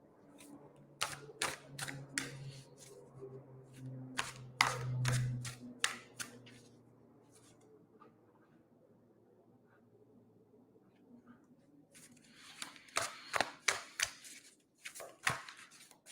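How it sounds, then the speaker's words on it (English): Crisp snapping and riffling bursts of tarot cards being shuffled, in two clusters separated by a quiet pause, close and fairly soft. "Now I'm giving these a good shuffle"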